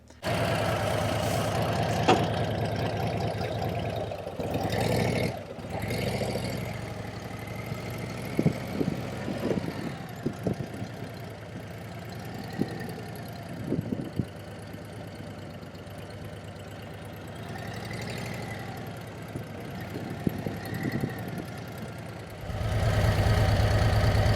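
A Harley-Davidson CVO motorcycle engine idles steadily during a clutch test, a continuous low, throbbing rumble with a few small clicks and knocks, close up and alone.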